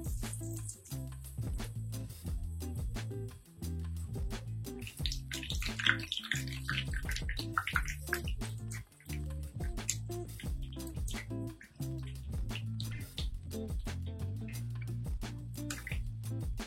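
Bread bajji, batter-coated bread, fries in hot oil with a quiet, steady crackling sizzle throughout, alongside a rhythmic repeating background pattern.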